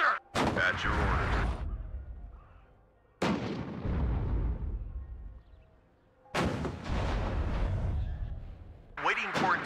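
Artillery and gunfire in the modern warfare strategy game WARNO: three heavy booming blasts spaced a few seconds apart, each with a long rumbling decay, and the start of a fourth at the end.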